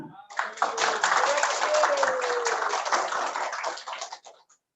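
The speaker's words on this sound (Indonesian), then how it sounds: "Tepuk tangan." Audience clapping at a Maulid Nabi gathering, a dense burst of hands that swells quickly, holds for several seconds and then tapers off, with a faint voice underneath.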